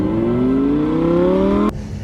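An Audi RS6 in performance mode accelerating hard, its engine note rising steadily in a loud smooth climb before a sudden drop at a gear change, heard close from inside the car with no talk.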